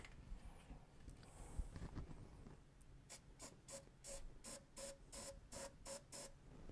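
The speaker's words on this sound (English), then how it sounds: "So I'll just spray a little bit of that stuff on there right now" A faint hiss followed by a run of short, evenly spaced spray bursts from an aerosol can, touching up a C3 Corvette L48 engine manifold, quiet and close.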